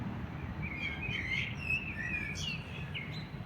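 Small birds sing high, bright chirping phrases in a garden in Poland over a faint low background hum, several short calls close together.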